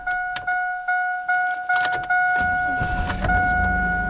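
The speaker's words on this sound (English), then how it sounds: "The starter cranks so fast now." A Chevy Astro van with a new starter: a regular chime beeps over several short bursts of fast cranking, then the engine catches and settles into a low idle, close and loud with no talking.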